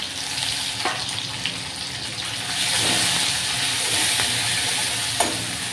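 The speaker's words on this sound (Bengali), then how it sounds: "জিরে ফোড়ন দিয়ে দিয়ে একটুখানি অল্প একটু পেঁয়াজ বাটা দিয়ে দিলাম" Onion paste hits hot oil tempered with cumin seeds in a home kitchen, sending up a steady, dense sizzle that swells a little partway through, with faint stirring clicks and no voices.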